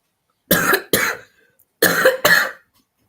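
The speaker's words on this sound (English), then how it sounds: "Try to control the cough if you can." Harsh coughing during a chug challenge, four loud separate coughs in two pairs with short silent gaps between them, close and alone without talk.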